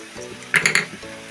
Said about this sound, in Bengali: প্রথমে আমি দিয়ে দিচ্ছি দেখুন জিরে আর হচ্ছে পাঁচফোড়ন